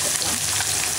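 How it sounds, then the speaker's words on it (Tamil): Chopped onions hit hot oil in a frying pan, giving a brief, dense sizzling hiss that stays loud and even for about a second. "வெங்காயம் போட்டுக்கலாம்,"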